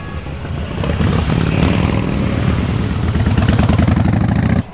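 Motorcycle engines at a Harley-Davidson biker festival rumble loudly and steadily at idle, including a Sportster 883 Iron. The dense roar swells slightly, holds, then cuts off sharply near the end.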